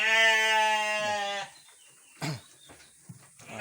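A goat or sheep bleats loudly and steadily for over a second, then falls quiet apart from a few brief, faint noises.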